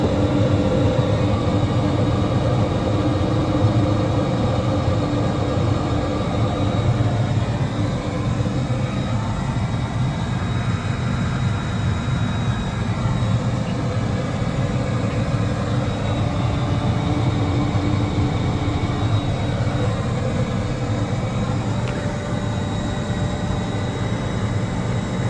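An aircraft turbine engine starts and settles at idle, a steady, loud, unbroken whine and roar that holds evenly throughout with no talking.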